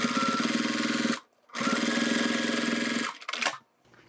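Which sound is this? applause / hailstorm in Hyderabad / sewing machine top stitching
sewing machine top stitching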